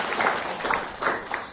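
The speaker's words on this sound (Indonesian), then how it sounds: "tepuk tangan dulu untuk SMP Negeri 2 Timur Mataram" Audience applause at a school ceremony for a population-awareness school visit in Cirebon, a steady dense wash of clapping with a few louder swells, fairly close and continuous throughout.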